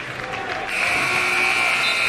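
Basketball crowd at a high school boys' game cheering after the final buzzer, a steady sustained roar with a whistle-like tone holding through it.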